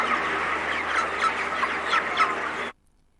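Dense crowd clucking from 40,000 broiler chickens packed inside a shed in Powys, a busy overlapping chorus of near and far calls that cuts off abruptly into silence.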